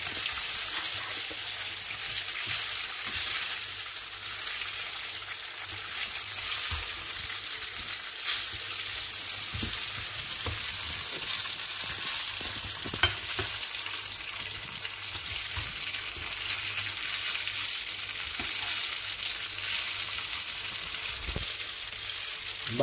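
Spaghetti being stirred in a pan of garlic, oil and chili gives a steady sizzling fry for the whole stretch, with faint scraping and stirring touches and no voices.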